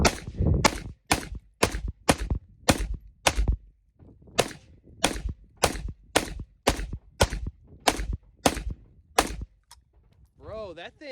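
About fifteen sharp gunshots from a Palmetto State Armory AK-47 rifle crack out one by one at a steady pace, heard from behind the shooter, with a brief pause midway and a little talk at the end.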